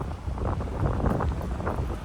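Wind roaring across a microphone on an open street, a loud continuous low buffeting that swells and eases without any talk.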